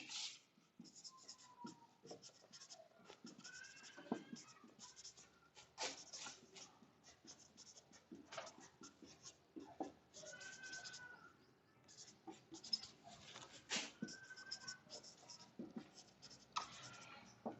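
A marker or pen scratches across a board while an electric dipole formula is written out during a physics lesson, with soft intermittent strokes and squeaks, close and quiet, with no talking.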